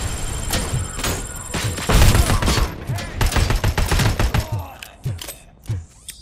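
Rapid bursts of gunfire from the video game RoboCop: Rogue City, a dense volley of sharp cracks and heavy thuds at first, thinning into scattered single shots toward the end.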